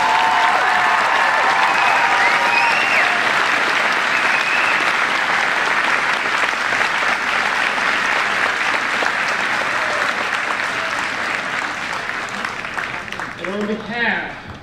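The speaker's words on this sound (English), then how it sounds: "Let's give them a big round of applause." Sustained, loud applause from a large audience at a middle school advancement ceremony, dense and even for many seconds before tapering off as a voice returns at the end.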